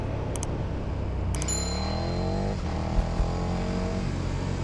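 A 2021 KTM 1290 Super Duke R motorcycle on the move, a steady engine drone with rising and falling tones as the rider shifts through gears, heard with constant wind and road noise.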